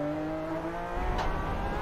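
Porsche 911 RSR race car on the Le Mans circuit heading onto the last long straight, a brief engine note shifting in pitch, heard from onboard without talk.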